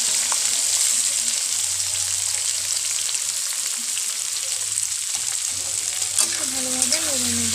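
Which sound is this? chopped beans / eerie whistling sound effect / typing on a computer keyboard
chopped beans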